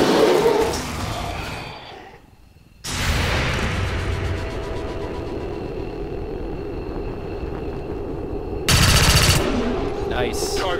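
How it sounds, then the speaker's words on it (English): Automatic weapon fire in the video game XCOM 2, rapid bursts of gunfire and impacts filling most of the stretch, with a short lull early on and a sharp louder burst near the end, loud and close. "Return fire!"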